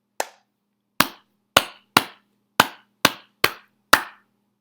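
Eight sharp hand claps, crisp and close, spaced unevenly over a few seconds against near silence.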